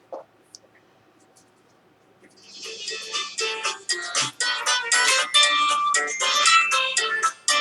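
A phone rings and buzzes in a bright, warbling electronic pattern that starts after a quiet stretch and keeps going, loud and close.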